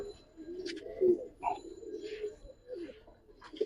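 Giribaz pigeons at a pigeon farm coo in low, throaty rolls, one bird prominent and close while others murmur continuously in the background, with a few faint higher chirps scattered over the flock.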